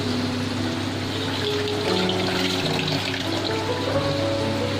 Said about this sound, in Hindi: एक बार हाथ धो लूँ।